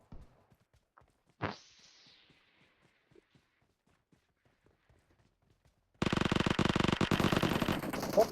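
Gunfire in the BGMI battle royale game: after a long quiet stretch with only scattered soft clicks and footsteps, a loud, dense burst of rapid automatic fire runs continuously to the end.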